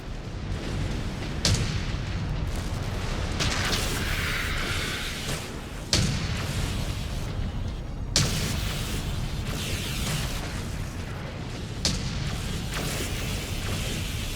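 Heavy booming blasts from an enemy mech being destroyed in MechWarrior 5: Clans, several loud sharp impacts spaced a couple of seconds apart over a constant dense rumble of battle noise.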